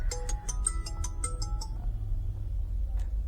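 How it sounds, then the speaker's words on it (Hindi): A mobile phone ringtone plays a bright, repeating melodic tune nearby for an incoming call, then stops, with no talk over it. "भाई देखो किसी सब्सक्राइबर का फोन आ रहा है"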